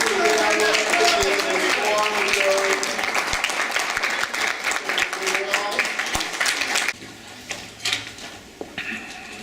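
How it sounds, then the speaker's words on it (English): Sustained applause from a large crowd at a Rotary Club awards night, loud and steady for several seconds, then cutting off abruptly and leaving a quieter room with scattered sounds. "please stand up for a round of applause"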